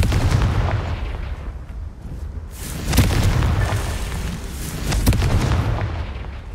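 Fiery Confringo spell blasts from the Hogwarts Legacy video game land as deep rumbling booms, three heavy bursts spaced a couple of seconds apart over a continuous low roar, with no voices.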